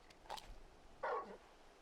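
Torgal, the big wolf-dog companion in Final Fantasy XVI, gives two short barks or yips, one quick and light, then a fuller bark about a second later, fairly close against a quiet background.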